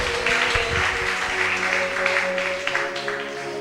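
A church congregation applauds and acclaims the Lord in a steady, dense wash of clapping that runs throughout, with a held musical tone underneath and faint voices.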